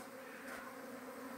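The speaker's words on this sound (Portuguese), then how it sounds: "Estou acreditando que eu estou no meio da abelha Apis." A swarm of Apis honey bees arriving at a hive box, a dense steady buzzing drone filling the air, close and continuous with no talk.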